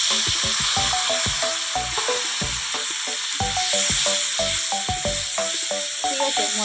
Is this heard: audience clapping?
no